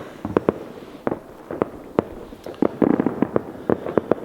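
New Year's fireworks going off in a neighbourhood, with a steady string of sharp cracks and pops at irregular intervals, some close and loud, others more distant.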